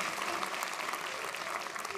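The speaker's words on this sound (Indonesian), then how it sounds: "Telat tepuk tangannya." Studio audience on an Indonesian comedy panel show breaks into brief applause, an even, fairly soft patter of clapping with faint voices underneath.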